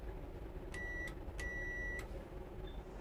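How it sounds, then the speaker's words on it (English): Two short electronic buzzes on a train's bell or buzzer system, the ready-to-start signal from guard to driver, fairly faint over quiet background noise. "give the driver the ready to start signal on the bell or buzzer."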